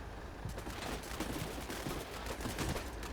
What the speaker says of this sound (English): that's some very heavy machine gun fire coming up from up there